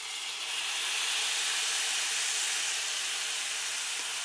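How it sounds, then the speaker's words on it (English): Sofrito hits toasting rice in a hot pot for arroz con gandules, bursting into a loud, steady, close sizzle that holds evenly throughout. "throw in your sofrito"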